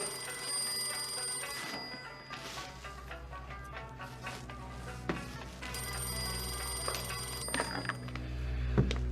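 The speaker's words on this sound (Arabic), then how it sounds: "خالد تليفون." A telephone ringing with repeated electronic trills in bursts, fairly loud and clear in a quiet room, with no voices.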